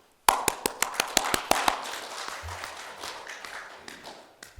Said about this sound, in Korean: 우리 모두 그를 위하여 뜨겁게 환영의 박수를 쳐 주십시다